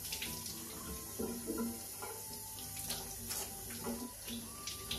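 Tap water runs steadily into a bathroom sink while someone rinses their face, with soft splashes and the flow changing as hands move through the stream; there is no talking.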